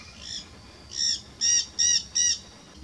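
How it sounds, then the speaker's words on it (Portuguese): Red-fronted parakeets and parrots calling near a sorghum field in Uberlândia, Brazil: five short, bright, harsh call bursts at a steady rhythm, fairly close and loud over a quiet background. "jandaia de testa vermelha,"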